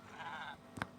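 A goat bleats once in Minecraft, a short sharp cry near the end over low game ambience.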